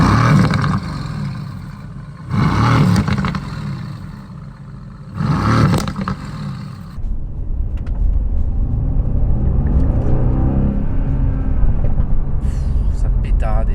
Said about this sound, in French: C'est la symphonie du V8.